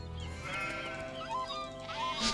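Sheep bleating in the Nancy Drew: The Haunting video game, a long wavering bleat followed by another shorter cry, close and clear with no talking.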